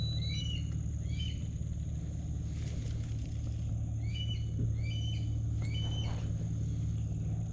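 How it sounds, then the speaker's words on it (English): Bird calling at a lakeside bluegill fishing spot, repeated short chirping phrases in several bursts over a steady low engine-like rumble, with no talking. "Bird, what are you doing?"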